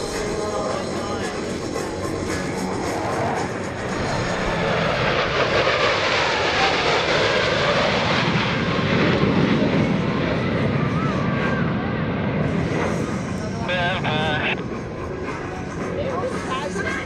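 US Navy Blue Angels jets roar past at an airshow, a loud, sustained, swelling jet rush that builds and fades, with a public-address announcer talking over it.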